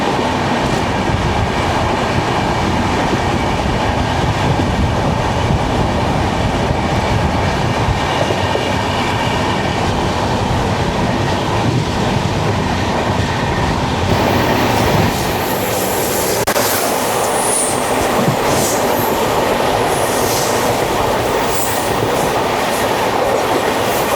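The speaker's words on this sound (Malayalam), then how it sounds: "അതായിരുന്നു വെസ്റ്റ് കോസ്റ്റ് എക്സ്പ്രസ്." West Coast Express train passing on the opposite line near Danishpet station, a long steady rumble of wheels and rail clatter heard from inside an AC chair car of the Kovai Express, with a brighter hiss as it goes by.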